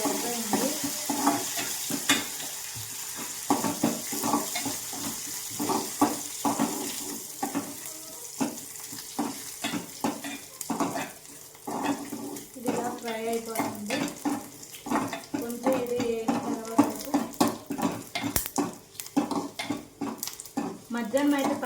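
Tempering for tomato chutney sizzles in a pan with steady frying hiss, broken by frequent clinks and scrapes of stirring and a bit of running water nearby; no talk.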